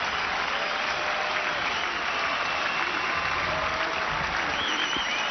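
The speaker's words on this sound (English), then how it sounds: "that gives this crowd a chance to chant Agassi once again" A tennis crowd at the 1999 Roland Garros final claps in dense, sustained applause, a loud uniform roar of hands with no break, cheering for Agassi.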